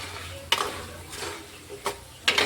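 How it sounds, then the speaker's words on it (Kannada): Puffed rice with salt and turmeric is stirred in a pan, three or four scraping stirs standing out over a faint low frying sizzle, close and fairly quiet. "ಸ್ವಲ್ಪ ಇದನ್ನು ತಿರುವ ಮತ್ತೆ ಉಪ್ಪು ಅರಿಶಿಣ ಹಾಕೊಂಡ ನಂತರ ಒಂದು ಸ್ವಲ್ಪ ಫ್ರೈ ಮಾಡ್ಕೊಳ್ಳಂಬ್ರಿ"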